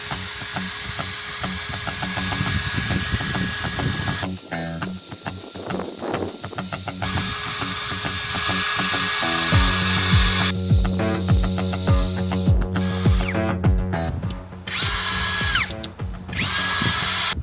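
A Grosser GCD 522T cordless drill runs under load during a cement crash test, its motor whine loud and close, shifting between a lower strained drone and higher bursts as it grinds in stretches without speech.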